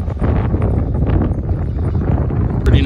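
Steady gusty wind buffets the microphone at an outdoor golf driving range in the Las Vegas desert, a continuous low rumbling roar with no voices.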